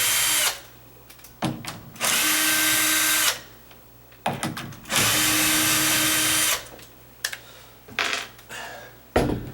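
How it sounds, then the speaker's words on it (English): A cordless battery-powered drill backs out the screws on a sagging double-door hinge, its motor whirring loudly in long bursts separated by short pauses and clicks. "my first step on my battery operated drill. I'm just going to undo these screws up here."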